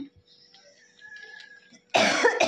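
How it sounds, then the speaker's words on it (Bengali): Two quick, sharp coughs burst out near the end after a stretch of quiet in a home kitchen where chilies have been fried for a chicken dish. "কাশি হচ্ছে।"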